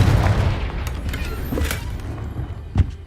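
Confringo explosion spell cast in the video game Hogwarts Legacy, a rumbling low blast with scattered crackling impacts and a sharper boom near the end, loud and close throughout.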